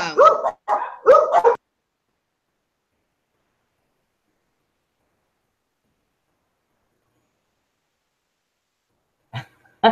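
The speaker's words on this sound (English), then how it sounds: "she's muted her mic because her dogs are barking" A dog barks several times in a quick burst, loud and close, then silence, followed by a couple of short barks at the end.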